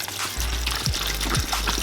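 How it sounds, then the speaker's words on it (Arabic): Water pours from above onto beans in a cooking pot, a continuous close splashing gush lasting under two seconds with a couple of faint knocks and no voices. "وبنرجع بنحط فوقهم مي."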